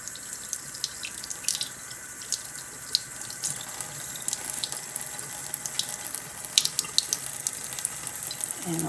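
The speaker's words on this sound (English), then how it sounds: "I have a colander to put the flowers in, and I'll just turn on the cold water." Cold water runs steadily from a tap into a colander, a continuous close hiss with faint splashes and drips, no talking.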